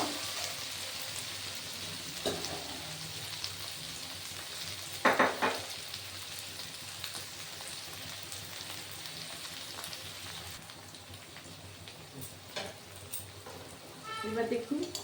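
Potatoes and onions fry in a pan for a veg tarka, a steady soft sizzle with occasional stirring clatter and a sharper burst near the end, while a voice speaks over it.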